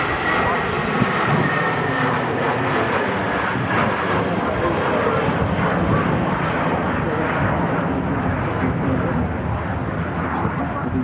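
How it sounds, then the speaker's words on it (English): British Airways airliner departing for London Heathrow, a loud sustained jet engine roar filling the whole stretch, steady and broadband, with a voice faintly present beneath. "As a British Airways heads back out to London Heathrow."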